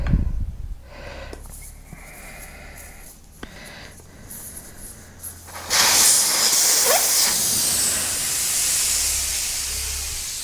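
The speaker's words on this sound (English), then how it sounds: "I am going to let the air out for a start off by taking the valve core out" Air rushing out of a Honda Transalp XL600V motorcycle tyre valve with the core removed: a soft hiss at first, then a loud, steady, close hiss sustained for the last several seconds.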